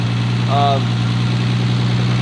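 An RB30DET engine swapped into an R34 Skyline idles with a slightly noisy head, a steady close mechanical drone throughout, with a brief voice-like sound partway in.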